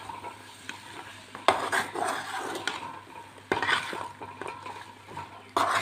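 A chicken mixture with a little soy sauce is stirred in a pan with a frying sizzle underneath. A utensil scrapes and clatters against the metal in uneven bursts, close up, with no talking.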